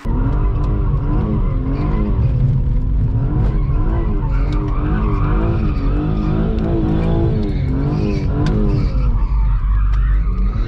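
BMW 330 Ci E46 sliding sideways in a drift, loud continuous tire skidding layered over a wavering, revving engine, close and sustained with no talking.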